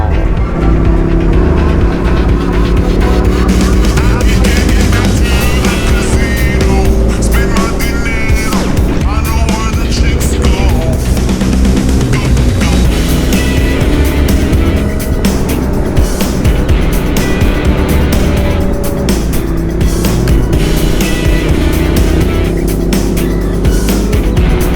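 Ducati Scrambler motorcycle riding up Lamoille Canyon in Nevada, a loud steady engine drone running throughout with wind noise and no pause.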